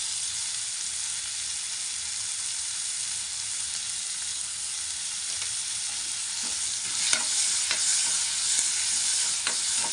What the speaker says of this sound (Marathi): याला चांगलं मिक्स करून घ्यायचं आहे आपल्याला आणि हे टमाटा आपला नरम होईल